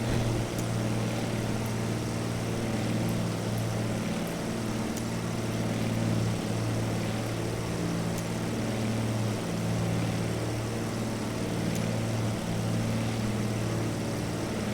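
A de Havilland aircraft engine drones in Microsoft Flight Simulator 2024, a steady, loud, unbroken hum with a low rumble that holds evenly throughout.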